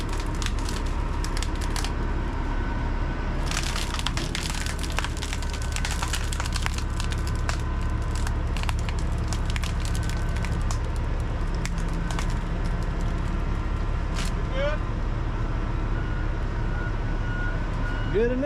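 John Deere 844 wheel loader pushing up on a load of lumber on a trailer, with a continuous loud diesel roar, cracking and splintering wood, and intermittent reversing beeps and truck noise nearby.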